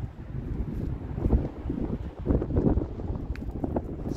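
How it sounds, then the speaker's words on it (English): Wind buffets the microphone outdoors beside a 1987 Chevy C10 pickup, a steady low rumble with gusty swells that rise and fall throughout and no voices. "It's a little windy"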